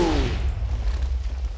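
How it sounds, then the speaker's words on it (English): A Minecraft explosion blasts out close and loud, a sharp boom that settles into a long low rumble lasting over a second. "Explosion."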